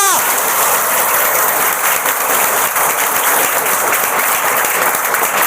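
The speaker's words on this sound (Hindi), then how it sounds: "जोरदार तालियां" Loud, sustained applause from a seminar audience fills the room, a thick continuous roar of clapping with no break from start to finish.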